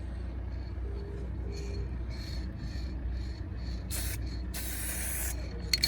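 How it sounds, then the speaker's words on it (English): Bursts of aerosol rattle-can paint spraying onto the sill of a Citroen C1, two short hisses followed by a longer sustained spray, close and fairly loud over a steady low background hum. "this is the paint matched to the paint code on the car, and well, I'm going to apply some of that"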